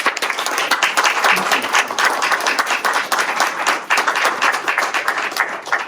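Audience at a Bridge Club celebration for Dr. Hilal Dogan applauds steadily, a dense, even patter of many hands clapping close by for about six seconds, with no talk over it.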